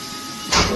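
A 2021 Haas VF-6SS CNC vertical machining center spindle spins at 5,000 RPM about three feet away, a smooth whirring hiss that rises abruptly halfway through and holds steady, with no voices.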